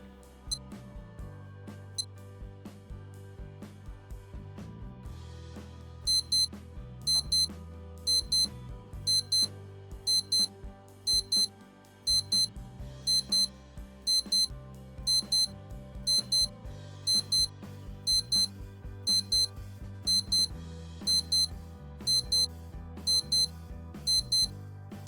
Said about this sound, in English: So that we have a nice loud crisp 20-second alarm.